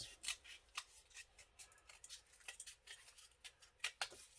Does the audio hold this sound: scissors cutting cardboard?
yes